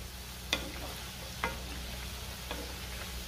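Matki bhaji, fritters of sprouted moth beans, deep fry in oil over a high-to-medium gas flame. The bubbling hiss is faint and even, broken by a few soft clicks.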